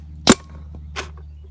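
A Luxe 2.0 paintball gun fired by a toddler gives one sharp, loud pop, followed a moment later by a softer second shot, close and otherwise quiet.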